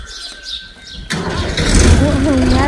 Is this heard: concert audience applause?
no